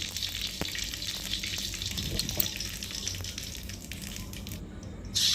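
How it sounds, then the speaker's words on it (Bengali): Bay leaf, cumin and spices crackling in hot oil for a dhaba-style chicken curry, a steady moderate sizzle with occasional sharp pops, swelling louder near the end. "তেলটা আমার গরম হয়ে গেছে, এবার ফোড়ন দিয়ে দিচ্ছি।"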